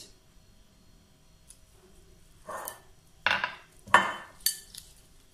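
A bowl being picked up and handled for greasing with a little oil before resting dough, a few close clattering knocks of dish and utensil after a quiet start, no voices.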